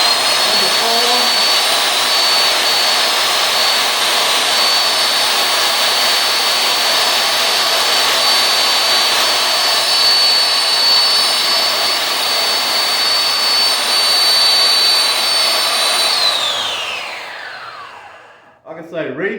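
A belt sander runs steadily at close range with a loud, continuous whine and broadband rasp, its tracking set and the belt left to warm up, then it winds down as the motor is switched off near the end.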